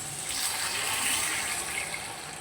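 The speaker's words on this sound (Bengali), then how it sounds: "এবার দিয়ে দেবো মধ্যে জল" Water poured into a pan of mango chutney made with sugar, a continuous, fairly loud rushing gush that holds steady throughout, close and with no voices.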